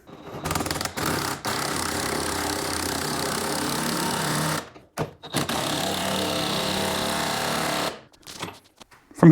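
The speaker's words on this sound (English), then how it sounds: "I'll put an impact driver on here" Impact driver hammering a nut tight on a classic Ford Mustang's aftermarket upper control arm: loud, rapid buzzing rattle in two long sustained bursts with brief pauses between, close up.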